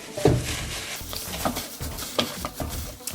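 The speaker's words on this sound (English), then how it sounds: "all I'm doing is basically just kind of scraping to get off the excess fat that's here" Excess fat being scraped off raw chicken, heard as close, uneven scraping and soft wet rubbing strokes repeating in short bursts, with occasional knocks against a surface.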